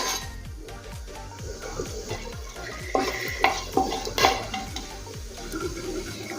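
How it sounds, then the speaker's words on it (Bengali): Bay leaf, small and large cardamom, cloves and cinnamon fry in hot oil, giving a soft sizzle under repeated scraping stir strokes and a few sharp clinks of a spoon against the pot. "ফোড়ন ভাজা হয়ে গিয়েছে"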